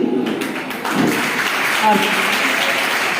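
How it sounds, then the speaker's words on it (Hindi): An audience at a college gathering claps, a moderately loud patter of hands that thickens after the first second and carries on steadily, with voices talking over it. "आप लोग ताली बजा सकते हैं।"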